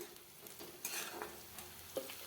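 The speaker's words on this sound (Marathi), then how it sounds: "व्यवस्थित याला परतून घेत आहे हळद टाकून" Onions and turmeric are stirred in a hot pan for poha, a faint, soft sizzle with light scraping strokes of a spoon, close and quiet.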